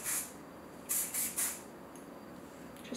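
Short hissing bursts of Navy Style Navigator shine spray misted onto short hair, a quick spritz followed by three closer puffs, then a quieter room.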